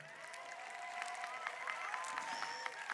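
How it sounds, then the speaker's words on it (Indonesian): Audience applause during a governor's year-end speech in Bali, faint distant clapping spread evenly across a few seconds in a large room. "Tepuk tangan untuk Bali."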